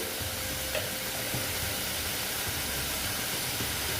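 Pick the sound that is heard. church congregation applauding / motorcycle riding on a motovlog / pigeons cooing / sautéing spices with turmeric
sautéing spices with turmeric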